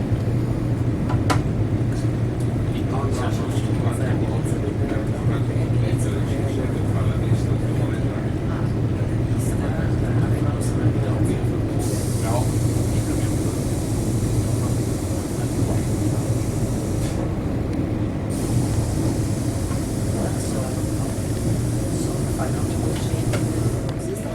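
Passenger train pulling out of Padova station toward Venice, heard from on board as a steady low rumble and rolling hum with continuous cabin noise, and muffled voices now and then.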